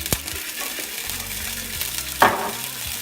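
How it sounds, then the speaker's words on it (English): About a tablespoon of garlic sizzles in a hot pan, a steady crackling fry with a few sharp stirring scrapes and a brief louder burst near the end, close and clear without talk. "we're going to do about a tablespoon of garlic. Remember, you want your pan hot."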